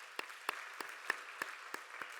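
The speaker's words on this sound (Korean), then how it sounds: "함께 박수로 환영하겠습니다." A church congregation at a young adults' Sunday service claps to welcome a newcomer, sparse individual claps spaced about a third of a second apart, fairly faint in a quiet room.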